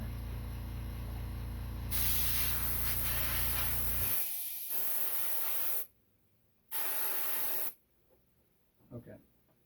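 An airbrush spraying paint onto a latex foam prop gives sharp, loud hissing bursts: a long spray, then a short second burst after a pause, with a compressor hum at first and faint handling noises after.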